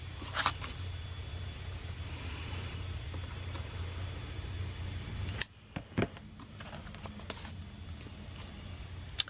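Scissors trim scrapbook paper for a journal cover in a soft, close hiss of cutting, followed by a few sharp snips and small handling clicks in a quiet room.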